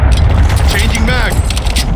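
A weapon magazine reload in Call of Duty Modern Warfare II, with quick metallic clicks and clacks under a loud busy battle mix and a voice calling out in the game.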